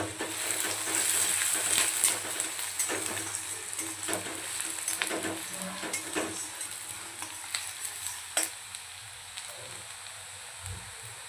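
Onion and curry leaves frying in oil in a pan for a dhaba-style sev bhaji, a steady sizzle with occasional stirring scrapes and clicks throughout, close and moderately loud, no talking.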